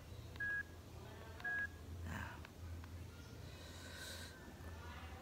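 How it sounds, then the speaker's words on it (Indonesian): Two short keypad dialing tones beep on a mobile phone, about a second apart, over a low hum and faint background noise, with no speech during the tones. "saya lagi mau nelpon teman dulu"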